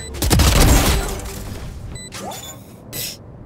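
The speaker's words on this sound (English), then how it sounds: "I love explosions." In Valorant, a loud booming explosion erupts, followed by fainter crashing and mechanical effects that fade out over a few seconds.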